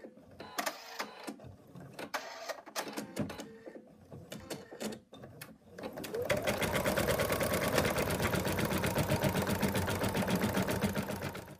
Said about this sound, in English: It's done the outline of the body and now it's going to baste the placement line for the muzzle